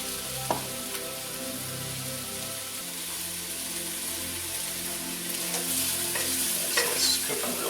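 Ground beef frying fast in a pan for shepherd's pie, a steady loud sizzle with repeated scraping stirs and occasional clinks of the utensil against the pan, heard alone without talk.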